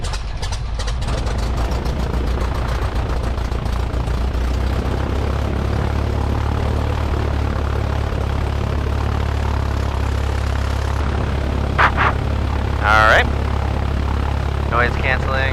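A Cessna 172 propeller engine starts up and settles into a loud, steady droning run heard from close by, the throbbing hum continuing throughout with brief radio-like voice snippets near the end.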